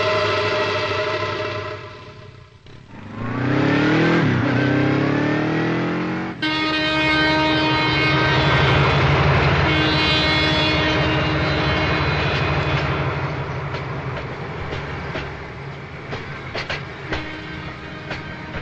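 A train rumbles past on a railway track, loud and close, with a rising whine and screech early on, then a long roar of clattering wagons that slowly fades away.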